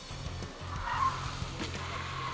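Tires on a Ford Freestyle skid and squeal during a sudden lane change with electronic stability control switched off, a faint screech over a low, steady engine rumble.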